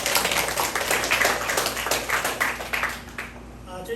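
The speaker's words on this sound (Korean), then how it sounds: "우리 하나님께 영광의 박수 한번 올려드리겠습니다." A congregation at a Presbyterian church's first anniversary Sunday thanksgiving service claps together in a moderate, steady burst that thins out toward the end, with a faint voice underneath.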